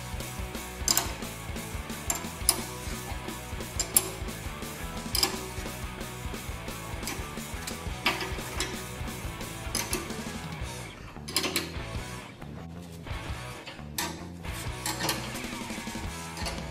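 Mechanical ratcheting and metallic clanking while bolts are tightened down on new cutting edges of a 2003 Link-Belt front end loader, a busy continuous run of clicks and clanks at moderate level with no talk.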